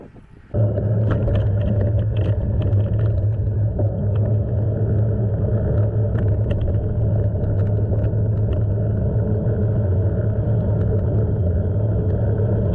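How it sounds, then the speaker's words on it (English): A strong headwind roars against a moving vehicle on a desolate rural road, a loud, steady low rumble of wind buffeting with engine and road noise underneath. "Bloody wind's kicking up."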